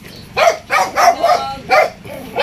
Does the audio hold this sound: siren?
no